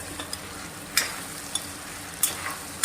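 Red pumpkin curry being stirred in a pan with salt added: sparse soft scrapes and clicks of a spoon against the pot at irregular intervals over a faint steady background hiss.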